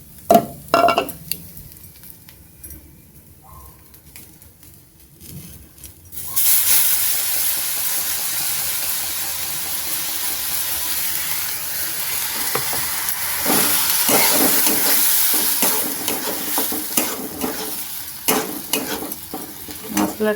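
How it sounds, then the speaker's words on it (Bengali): Sliced onions and masala fry in a pan as filling for stuffed karela. A few clinks open the sound, then loud, steady sizzling begins with spoon stirring and scraping and keeps going without any talk. "মশলাটা দিয়ে একটু ভাজা ভাজা করব"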